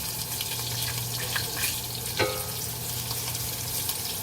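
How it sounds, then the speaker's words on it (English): Garlic sizzling in melted butter in a pan, a steady close frying hiss with soft crackles and one brief clink of a utensil partway through, no talk. "So now that my butter's melted, you can see my garlic is starting to do a little dance in there"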